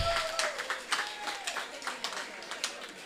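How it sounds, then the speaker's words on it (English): An audience at a women's forum gives a round of applause, a faint and fairly distant patter of clapping that rolls on steadily for a few seconds. "Give her a round of applause"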